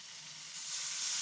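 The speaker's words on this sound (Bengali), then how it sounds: "এবার এটাতে অল্প একটু জল দেব" A splash of water hitting hot frying spices (cumin and coriander powder) in a pan, a sudden hissing sizzle that swells and stays loud for a moment, with no talk.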